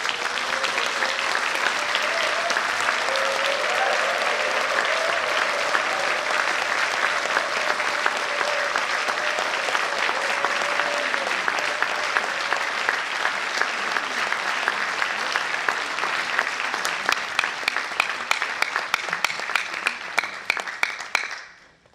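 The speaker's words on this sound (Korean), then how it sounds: "나오실 때 뜨거운 박수로 맞이해 주시길 부탁합니다" An audience at a Korean peace and reunification prayer meeting warmly applauds to welcome a German pastor to the stage. The sustained, dense clapping lasts about twenty seconds before thinning into scattered claps.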